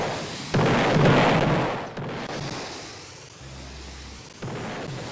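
Missile explosions in the Roblox game Doomspire Brickbattle, heard as loud booming bursts with a heavy blast near the start and another toward the end over a rumbling game background.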